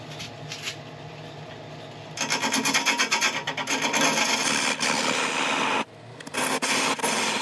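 Yew and resin blank spun on a wood lathe while the top is turned down, giving a continuous dry scraping rasp that grows louder and rougher partway through, with a brief pause near the end, close and alone.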